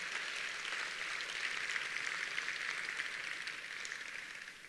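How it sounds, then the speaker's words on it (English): A large audience at an annual awards night applauds steadily, a dense, even wash of clapping that holds for several seconds at moderate distance. "Let's give this group a big round of applause."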